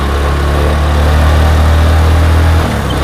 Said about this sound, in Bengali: third gear